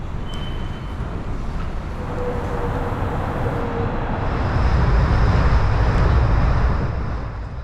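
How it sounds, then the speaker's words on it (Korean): An Airport Railroad train rides toward Incheon Airport, a continuous rumbling roll of wheels on track with a steady hum that swells slightly louder midway, with no talk. "지하철을 타고 약 20분을 달려 인천공항 1터미널에 도착했습니다"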